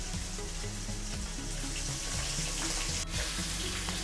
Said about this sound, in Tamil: நம்ம மீனெல்லாம் சேர்த்த பிறகு மீனெல்லாம் வறக்க ஆரம்பிக்கிட்டோம்.